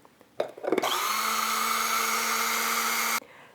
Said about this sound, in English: I have to grind this all now before I can add it to my grit mix.